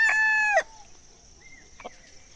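Kadaknath roosters and chickens on a desi poultry farm, with one loud close crow cut off abruptly, then quieter clucks and a short squawk from the flock.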